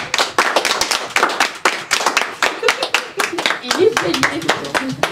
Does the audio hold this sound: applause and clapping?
yes